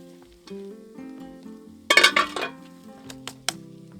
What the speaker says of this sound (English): Now I can slip these into boiling water.